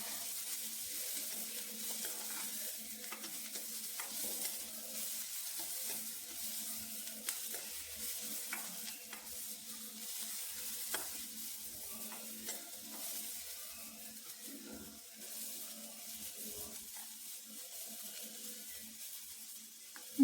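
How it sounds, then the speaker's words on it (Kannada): Onions, mustard seeds and curry leaves frying in a pan for ridge gourd palya, a continuous close hiss of sizzling oil with soft scrapes and stirs, steady throughout and no talking. "ಆಮೇಲೆ ಈರುಳ್ಳಿ, ಇದನ್ನೆಲ್ಲನೂ ಮಧ್ಯೆ ಸ್ವಲ್ಪ ಫ್ರೈ ಮಾಡ್ಕೊಳ್ತೀನಿ"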